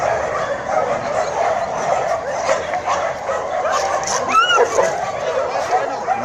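Dogs at an animal donation event yip, bark and whimper close by in a busy outdoor crowd, with people talking throughout.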